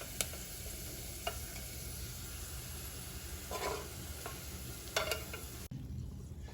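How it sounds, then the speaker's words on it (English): Onions fry and brown in oil for kachi mutton biryani with a constant dense sizzle close by. Occasional light ticks of stirring sound through it, and the sizzle drops away abruptly near the end. "Now our onions are also getting nicely brown."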